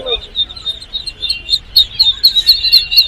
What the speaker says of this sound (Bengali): দেখতে পাচ্ছেন অনেক পুলেট কোয়েল আছে জাপানি কোয়েল আছে